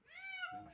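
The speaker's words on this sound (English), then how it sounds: "Look at these little kitties." Small kittens give a single drawn-out, high meow, close and clear, with a voice speaking softly just after it.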